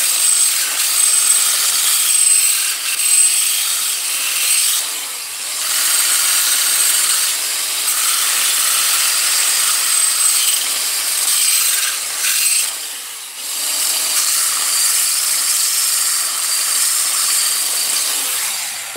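Small oily metal sleeves being deburred by hand, a steady scraping and rasping texture that runs continuously close up with short pauses, loud and without any talk.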